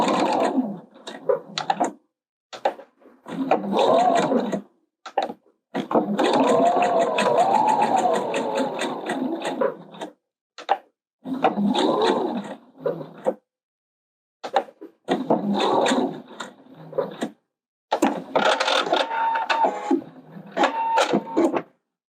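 A sewing machine stitches the facing of a blouse in repeated bursts of rapid mechanical chatter, a long run in the middle and shorter runs separated by brief pauses, close and clear.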